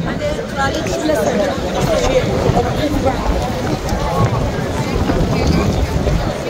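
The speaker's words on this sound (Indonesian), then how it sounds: "kenceng dan dingin ya" Strong, cold wind roars and buffets the microphone continuously in the open courtyard of the Masjid al-Haram in Mecca, with someone talking over it and a murmur of crowd noise beneath.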